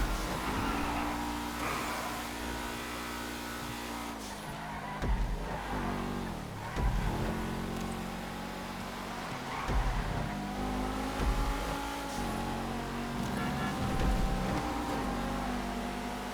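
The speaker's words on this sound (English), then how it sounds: "Yeah, faster car approaching my ass." Racing cars in the FiveM racing game drone steadily with engine tones that rise and fall as they rev and shift, continuous and fairly loud throughout with a few brief bumps.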